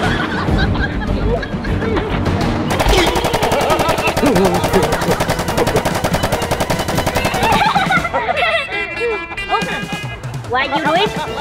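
Rapid bursts of toy or cartoon machine-gun fire run loud through most of the span, mixed with excited children's voices and chatter, with a brief pause and then more clattering near the end.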